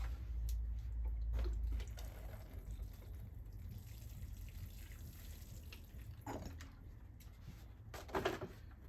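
Water trickles and patters gently onto a seed tray, faint and steady, with a few brief louder splashes and drips near the end.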